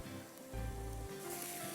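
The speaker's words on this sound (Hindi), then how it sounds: "और कीमे को भी इस मसाले के साथ अच्छी तरह भूनिए" Minced meat (qeema) fries with spices in a pan for a qeema biryani, a faint steady sizzle heard close up, joined by a louder low scrape or rumble partway through as the meat is broken up and turned.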